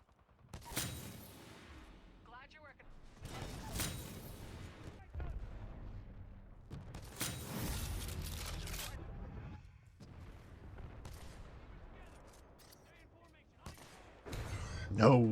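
Gunfire and explosive bursts from a Titanfall-style shooter game come in several loud clustered volleys separated by quieter stretches, with a player's voice talking over the battle.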